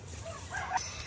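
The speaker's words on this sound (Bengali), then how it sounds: "ওই যে ভিতরে মুরগি অনেকগুলা মনে হয় কুচ্চা বইছে" Chickens in a village coop, where many hens are sitting broody, give a brief, faint cluck or two over quiet background noise, with no talking.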